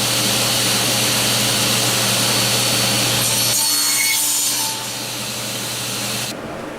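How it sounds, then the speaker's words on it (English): Bandsaw slicing through wood for a turned wooden star, a steady loud machine hum with a continuous rasping cut that shifts tone partway through, then eases as the blade exits and the motor runs on. "So I get 2 cuts when I go through the bandsaw instead of 1 at a time."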